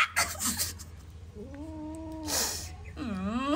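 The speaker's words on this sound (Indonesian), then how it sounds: "Kupunya kucing gemuk, kerjanya marah-marah." An angry, chubby odd-eyed house cat growls and lets out drawn-out, wavering caterwauls, two long yowls rising and falling up close, with no one talking over them.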